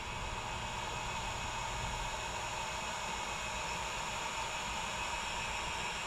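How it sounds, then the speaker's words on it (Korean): Oil boiler hot water circulation pump motor running after the burner shuts off, a steady continuous hum and hiss with no break, moderately loud and alone. "모터가 돌아가는 소리가 들리시나요?"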